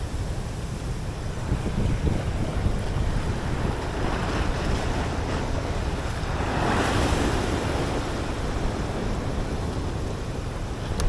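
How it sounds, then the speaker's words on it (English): Choppy ocean waves washing against a rocky shore off Jeju, South Korea, a steady loud rush of surf with wind buffeting the microphone and a swell of water around the middle. "the motion and strength of the waves, because it is a little choppy out here today"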